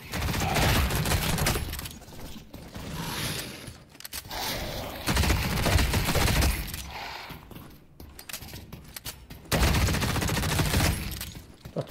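Rapid bursts of gunfire in the video game The Cycle Frontier, loud repeated volleys with brief pauses between them, filling the whole stretch.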